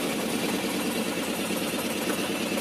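Tata Ace Zip mini truck engine running at a steady idle after a starting problem, a continuous close, loud mechanical rattle and hum with no talking.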